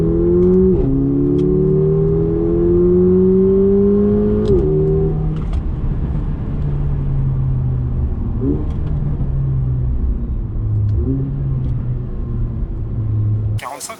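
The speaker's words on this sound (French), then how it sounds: "On est sur un moteur 4 cylindres turbo qui développe 380 chevaux." A Mercedes CLA 45's 380-hp four-cylinder turbo engine pulls hard on a wet road. It is loud and close, with revs climbing in repeated sweeps broken by quick gear shifts and easing off toward the end.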